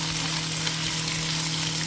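Carrots and broccoli cook in a pan with other vegetables over medium heat, a steady, close sizzling and frying with no talk.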